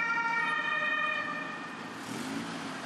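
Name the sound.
ambulance sirens outside a central city hospital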